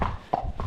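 A ridden horse's hooves clip-clop in short, close, moderately loud steps over a brief moment, with low wind-like rumble underneath.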